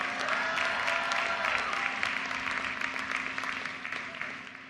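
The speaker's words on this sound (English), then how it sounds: "Give him a round of applause" A large outdoor crowd gives sustained applause at a university commencement ceremony, a dense and even wash of clapping that fades slightly toward the end, with a faint steady tone running underneath.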